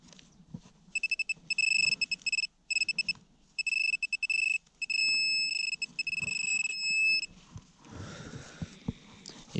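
A metal detector sweeping over a field gives a run of sharp, high, rapid electronic beeps in bursts, then a longer steady tone, followed by soft digging and rustling sounds.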